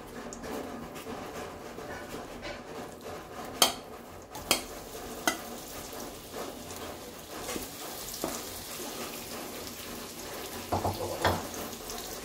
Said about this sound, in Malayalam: ഈ ചെമ്മീൻ നമ്മൾ ഇതിലേക്ക് കൊടുത്തിട്ട് ഒന്ന് ഇളക്കി കൊടുക്കാം